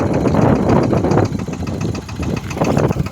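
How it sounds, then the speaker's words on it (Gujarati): A tractor engine runs at a steady, loud, low rumble with a slight knocking throb while spraying pesticide on a farm, close up and with no voices. "ટ્રેક્ટર આપણે ચાલુ કરી નાખ્યું છે।"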